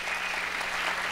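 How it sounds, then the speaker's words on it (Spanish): An audience at an academic lecture applauds to welcome a speaker, a soft, even wash of distant clapping heard for a brief moment with no talk. "Entonces le damos la bienvenida al doctor Julio Martínez con un aplauso de los upicsianos"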